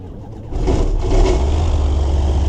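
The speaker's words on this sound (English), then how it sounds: "we're going to go and see if the engine will start" A flexwing microlight aircraft engine catches and settles into a steady, loud running drone after a brief quieter start, continuing close by without pause.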